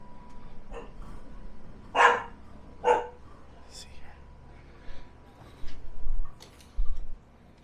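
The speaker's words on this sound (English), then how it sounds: "oh, there's a dog here." A dog barks indoors at a house, two or three sharp nearby barks spaced a second apart, with quieter thuds and soft voices around them.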